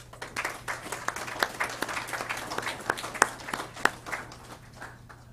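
A small audience claps at a signing day ceremony at TCAT Hohenwald, a steady round of sharp, scattered hand claps from a modest crowd lasting several seconds.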